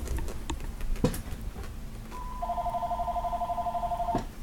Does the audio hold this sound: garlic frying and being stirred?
no